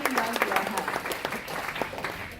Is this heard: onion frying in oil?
no